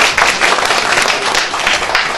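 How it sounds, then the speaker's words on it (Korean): Audience at a school meal policy debate in Korea claps for a panelist, a brief burst of close, loud, uneven applause that pulses a few times and carries on without speech. "우리 박수 한번 부탁드리겠습니다."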